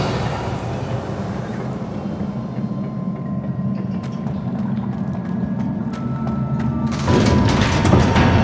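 A Revelio spell cast in Hogwarts Legacy: a deep rumbling whoosh with scattered clicks and ticks, then a sudden louder, brighter burst near the end, without any talk.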